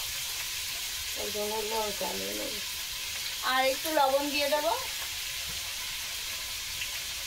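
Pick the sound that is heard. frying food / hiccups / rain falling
frying food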